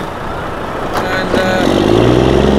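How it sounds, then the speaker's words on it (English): A Volvo FM 500 truck at a truck show is pulled out, its engine rumbling and building steadily louder with a rising heavy drone, while a voice briefly speaks over it. "the Volvo FM 500 is now getting pulled out"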